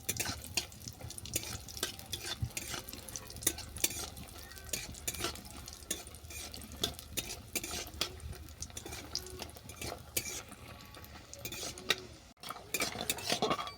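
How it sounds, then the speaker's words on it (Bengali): Sun-dried pumpkin lentil dumplings fry in hot mustard oil in a wok, a soft sizzle under frequent scraping and clinking of a spatula stirring against the pan, fairly quiet and close. "বড়িটাকে আমি বাদামি করে ভেজে নেব।"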